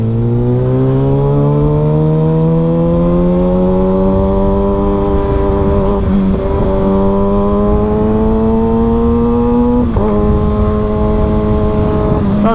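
A 2023 Kawasaki ZX6R sport bike's exhaust roars close and loud, its pitch climbing steadily under acceleration, with brief dips at two gear changes before it pulls higher again.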